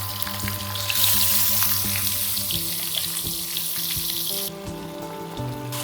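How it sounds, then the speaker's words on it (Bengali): Fish pieces, chara pona for a spicy jhal curry, going into hot oil one at a time, giving a steady close sizzle with small bursts as each piece lands and bright crackle, no talking. "এবার আমরা এগুলো ভাজতে দিয়ে দিই একটা একটা করে।"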